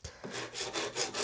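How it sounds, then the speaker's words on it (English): Very coarse sandpaper wrapped around a dowel rasps against a small backsaw during restoration, making a few close, short strokes with an uneven, scratchy rhythm, and nobody speaks. "I'm going to do sandpaper wrapped around a dowel here and a stick and a block to finish"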